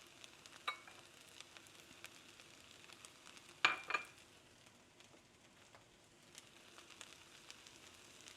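Carrots and scallions frying in a pan for raisin rice give a soft, steady sizzle, with a couple of sharper crackles and stirring scrapes near the middle, close and fairly quiet.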